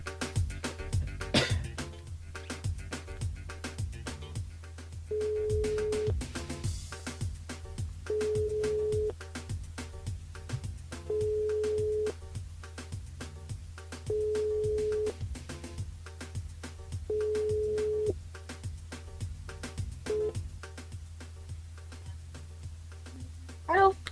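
Repeated telephone ringback tones pulse at steady intervals during a radio call-in to a listener, each tone a sustained beep with pauses between, heard over a busy background of music and chatter.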